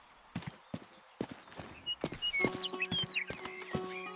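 A horse in the western video game Rustler, with a run of hoof clip-clops followed by a whinny and whistling tones over a steady game soundtrack.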